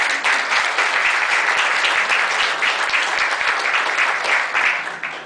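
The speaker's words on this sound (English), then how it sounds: "Give her an applause" Sustained applause from a crowd at a chamber of commerce state-of-the-city breakfast mixer, dense and steady clapping that carries on for several seconds before easing off at the end.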